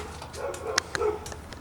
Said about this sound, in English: Your dog's creating a ruckus.